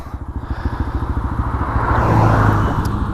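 Honda Grom motorcycle engine pulling hard with a fast, pulsing thump that climbs into a steady, loud rising drone, close up with no talk.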